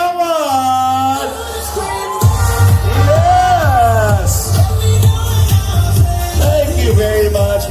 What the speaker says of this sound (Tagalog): Pwede po ba makarinig sa musika mong palakpakan na may hiyawan?